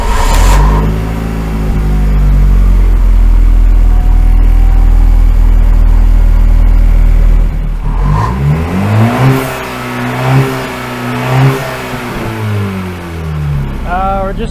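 Car engine being started and revved during a diagnosis of a vehicle with transmission problems: a steady idle drone, then rising and falling revs in repeated pulls. People talk nearby under the engine noise.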